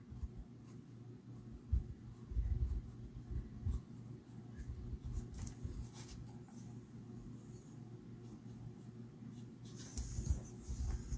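A pencil sketching on paper, heard as a faint, close, continuous scratchy rubbing with small irregular strokes over a quiet background.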